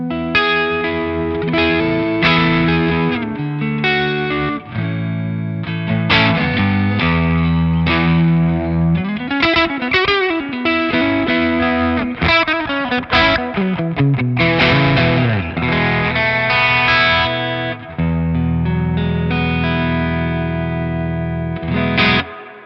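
An electric guitar played through an amp rig set on the edge of breakup gives a slightly gritty clean tone with chorus-like shimmer, heard as a continuous played passage of chords and single notes, loud and alone.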